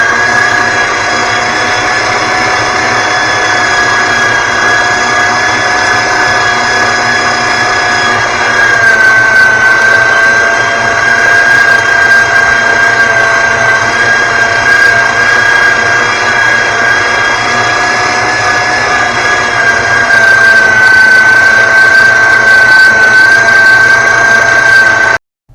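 An electric meat grinder, a small $50 unit, grinds pork in a steady, loud, continuous motor whine with a slight shift in pitch partway through, running alone without talk.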